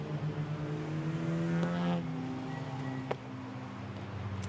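Race cars including a BMW, Porsche Boxster, Honda Civic and Ginetta G20 circulating at Brands Hatch at reduced pace behind a safety car, a steady engine drone that shifts pitch as cars pass at moderate distance.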